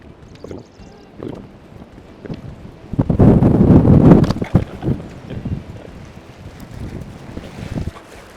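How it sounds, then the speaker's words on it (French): Strong gusty wind buffets the microphone at a riverbank in Noyan, Quebec, rising to a loud rushing roar midway and dropping to intermittent thumps and flutters. "C'est très venteux aujourd'hui."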